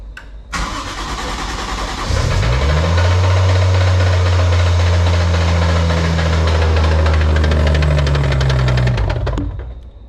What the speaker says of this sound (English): basically it's come up with some sort of knocking noise